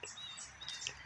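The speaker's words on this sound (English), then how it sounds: "Listen to this bird." A bird calls from a tree near a street, with faint high chirps and short tweets over steady low background noise, no voices.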